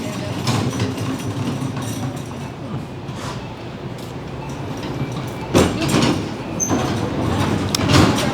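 A light rail train passes nearby with a loud, continuous rumble and rattling of wheels on the track, swelling toward the end, heard in the background of an indoor talk.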